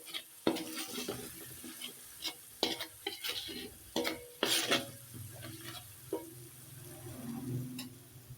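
Shallot and garlic spice paste stir-frying in a wok, a steady sizzle broken by frequent clanking scrapes of a spatula against the pan, close by, with no voices.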